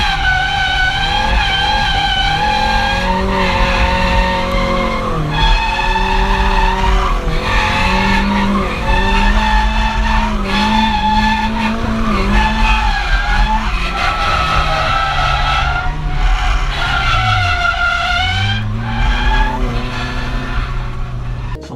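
Nissan S14 Silvia with an SR20DET engine drifting on a track, its loud engine wailing and revving through sustained skids with tire squeal, continuous and close for the whole stretch.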